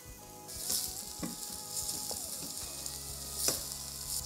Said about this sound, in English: Add in the banana pepper.